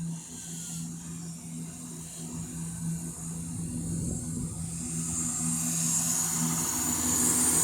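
An East Midlands Railway Class 170 diesel train at Stoke-on-Trent station gives a steady engine drone that swells louder and denser as it builds power.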